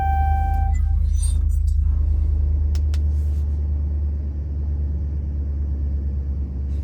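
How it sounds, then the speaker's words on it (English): Volkswagen Routan minivan engine running at idle, a steady low rumble dominating throughout with brief beeps and clicks early on, fairly loud and close. "So press the brake and start your vehicle to get to the next step."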